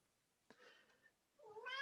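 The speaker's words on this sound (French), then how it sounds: "mon petit minou qui s'en mêle" A pet cat meows close by in a quiet room: one short meow followed after a pause by a longer, louder, rising meow.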